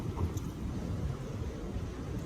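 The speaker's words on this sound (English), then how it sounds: "that flapping you're hearing in the background is my tent, thankfully drying off" Steady outdoor wind on the Appalachian Trail with low, continuous rumbling and fluttering of tent fabric flapping nearby, with no talking.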